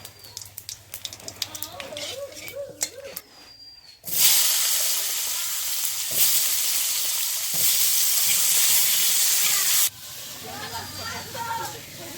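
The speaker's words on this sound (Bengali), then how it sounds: "আমি জিরেটা দিয়ে দিলাম আর আলুগুলো ভালো করে ভেজে দেবো" Cumin and potato pieces drop into plenty of hot oil and it bursts into a loud, steady frying hiss that lasts about six seconds. Quieter kitchen clatter and a speaking voice come before and after it.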